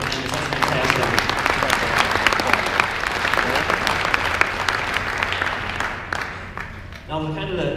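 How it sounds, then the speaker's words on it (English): A banquet crowd applauding at an awards event for a Baja racing competition, sustained dense clapping from a large room that carries on for several seconds before fading out at the end. "give yourselves a round of applause for attendance"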